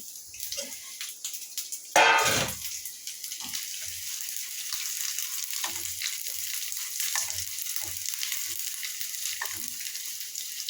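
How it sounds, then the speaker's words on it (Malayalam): Grated coconut dropped into hot coconut oil in a pan, sizzling and crackling steadily after a loud initial burst, with occasional clicks and stirring, no voices. "ചൂടായ വെളിച്ചെണ്ണയിൽ തേങ്ങ ഇട്ടു."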